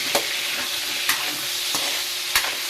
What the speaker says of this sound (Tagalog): Igigisa lang natin.